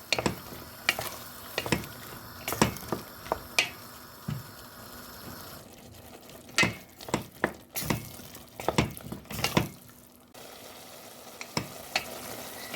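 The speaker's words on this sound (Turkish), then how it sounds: "fasulyemi de şimdiden ilave edip 5 dakika salçayla fasulyeyle kavuracağım" Green beans sautéed with tomato paste in a pan, a soft frying sizzle underneath repeated scraping stirs and clinks of a utensil against the pan, close and irregular, with short quieter gaps.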